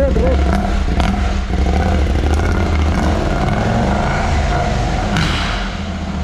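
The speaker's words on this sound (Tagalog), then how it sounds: "Iingay, yan yung talagang tunog ng KTM." A KTM 790 parallel-twin motorcycle engine with its catalytic converter removed runs loud and close, with a continuous heavy rumble and rough, clattering texture throughout and no clear pause.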